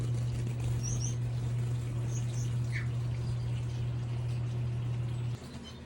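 Gouldian finches and a gold-breasted waxbill in an aviary give a few sparse, faint high chirps over a steady low hum.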